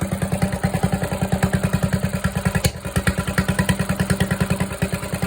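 Snowtrac tracked snow vehicle engine running steadily, a loud close, rhythmic low chugging with mechanical clatter, briefly dipping midway before resuming the same even beat.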